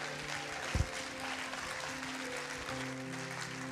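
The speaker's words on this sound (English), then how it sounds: "Give him a little round of applause." A church congregation gives a visiting guest a brief round of applause, soft and distant across the hall, a steady wash of clapping with one sharper knock near the start.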